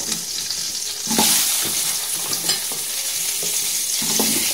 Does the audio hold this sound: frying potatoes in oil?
yes